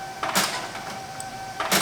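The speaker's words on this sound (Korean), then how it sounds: "프린터가 자꾸 말썽인데" A printer runs beside a gauge block comparator setup, giving a steady mechanical hum with a thin whine and two louder feed bursts near the start and end, close by with no talk.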